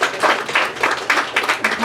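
An audience at a live stand-up comedy show in Fargo claps in several short bursts, close and lively, swelling and dipping in uneven waves.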